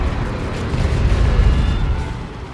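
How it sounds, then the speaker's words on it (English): A lascannon fires in the Warhammer 40,000: Dawn of War 2 video game, a loud continuous roaring blast with heavy low rumble that holds steady for a couple of seconds. "Las Cannon getting shots in."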